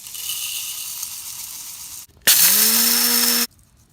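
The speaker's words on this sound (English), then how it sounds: "So I ground up all the secret powder, very fine." Secret powder for a homemade smoke bomb is ground very fine. A steady, close grinding hiss runs for two seconds, stops briefly, then a motor whirs up to speed and holds at a high whine for about a second.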